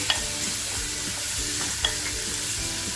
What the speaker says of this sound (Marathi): मंद गॅसवरती आपल्याला हे छान असं फ्राय करायचे